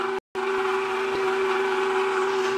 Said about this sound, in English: And we're mixing again, very loudly